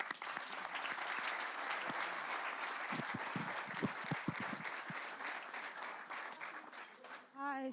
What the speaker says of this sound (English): just another round of applause to our panelists